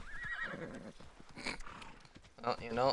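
A horse in a video game whinnies in two short wavering calls, near and clear, with hoof clip-clop between them while someone talks over it.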